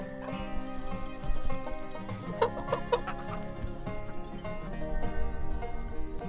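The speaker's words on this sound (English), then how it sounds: "The geese are coming over to me right now" Geese out on orchard pasture give low, repeated clucking honks at close range, several calls bunched together, over a steady background drone of insects.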